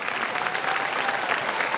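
Steady applause from a crowd, dense clapping at an even level throughout with no voices standing out.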